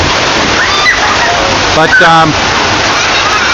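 Heavy June rain in Atlu-Bola, Pampanga, with water pouring off a roof: a steady loud rush and splash fills the whole stretch, while someone speaks briefly over it.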